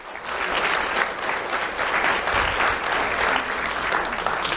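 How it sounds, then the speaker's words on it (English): Steady applause from an audience at a school awards ceremony honoring the school board, dense clapping sustained evenly for several seconds with no voices. "Let's have a round of applause for the school board and Dr."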